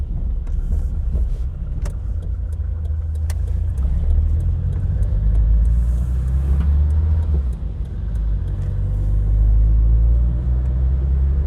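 Heard from inside a Citroën AX 11TZX, the small car drives along at a steady pace with a deep road rumble and engine hum, plus occasional small clicks and bumps.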